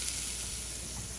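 A steady, soft sizzle of butter frying in a hot pan for French toast, a continuous crackling hiss with no voices.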